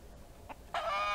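In the survival game Mist Survival, a chicken gives a soft cluck followed by a louder, drawn-out squawk, close and alone.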